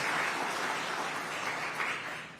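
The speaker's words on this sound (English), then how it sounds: "Can we give them a round of applause for all of the efforts that they do?" An audience gives a sustained, dense round of applause for university presidents at a bill-signing event on college mental health support, steady and full throughout without talk.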